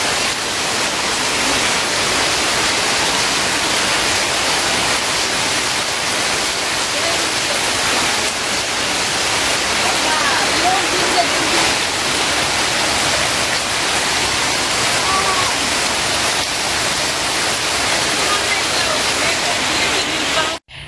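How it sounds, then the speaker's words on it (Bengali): Heavy rain pours down steadily and loudly for the whole stretch, a dense unbroken hiss that stops abruptly at the very end. "সেই বৃষ্টি করতেছে।"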